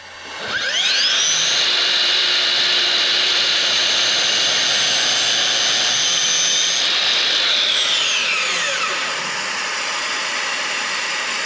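A DeWALT FLEXVOLT 60V cordless 12-inch sliding miter saw spins up with a rising whine and cuts through plywood in one long, loud, close pass, then the blade winds down as the motor keeps droning.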